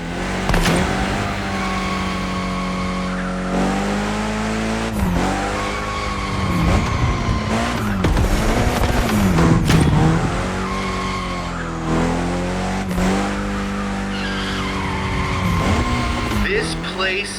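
In the racing game The Crew Motorfest, a car drifts with long, wavering tire squeals over a loud, steady engine drone, with a voice talking throughout.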